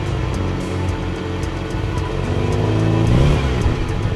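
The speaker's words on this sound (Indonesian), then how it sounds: "bus" A bus engine accelerating, a steady mid-pitched motor drone that swells and rises in pitch toward the end, loud and close with no talk.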